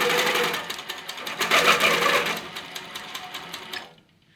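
A Janome Versa 18 sewing machine runs continuously in cruise mode, a steady loud whirring needle drive close by that winds down and stops near the end.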